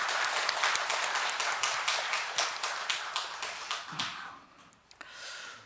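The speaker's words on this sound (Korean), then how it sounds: "우리 하나님께 영광의 박수 올려드리겠습니다." A congregation claps together during a Sunday morning Korean church service, a dense, lively burst of applause that gradually thins and fades out toward the end.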